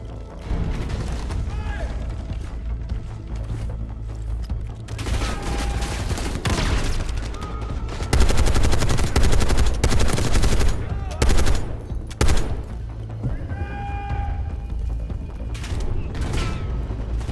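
Heavy machine gun fire in the Call of Duty Black Ops 6 campaign rattles in long, loud bursts with mechanical clatter and booms, while voices shout over the combat.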